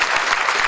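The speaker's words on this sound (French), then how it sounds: "applaudissez énormément Martin Gentil" A short burst of audience applause greets a guest at a short film festival, dense and steady clapping from a full room, heard alone.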